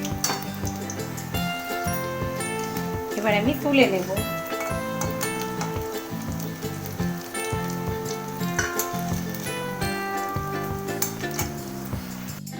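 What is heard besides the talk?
paneer and ridge gourd batter fritters frying in oil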